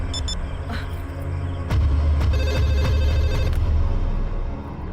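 A telephone rings in short, bright repeated bursts in a quiet room, standing alone with no voices over it.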